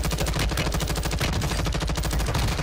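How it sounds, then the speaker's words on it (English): Rapid automatic gunfire from the shooter game Warzone 2 rattles on continuously at close range, loud and steady throughout with no speech. "I'm shooting too. I'm shooting."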